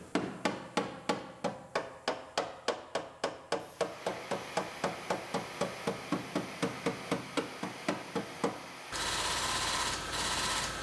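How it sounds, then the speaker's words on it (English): Hammer striking a car's floor panel to straighten it, around twenty loud, evenly spaced metallic blows close by, then a harsh steady grinding rush takes over for the last couple of seconds. "We're going to hammer out the floor and get it nice and straight."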